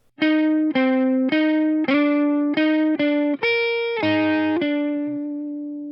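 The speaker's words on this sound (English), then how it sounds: "then you hear a second guitar come in" A second electric guitar part, distorted, picks a short phrase of about nine separate notes, rising near the end, then a ringing final note fading out.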